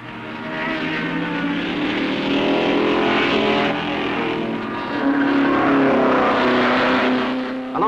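Several 1968 British saloon racing cars roar at full throttle at the start of a 20-lap race on the 2.6-mile Kentish circuit, a dense, steady engine drone rising slightly as they accelerate, with no talk.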